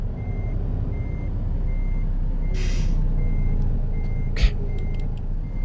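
A truck in American Truck Simulator backs up with a steady series of evenly spaced reversing beeps over a low engine rumble, with a brief hiss of air brakes partway through and another short burst near the end.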